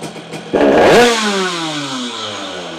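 A small tuned scooter engine with a Keihin PWK carburetor revs sharply to a loud, high roar, then its pitch sinks steadily as it drops back to a low, steady idle.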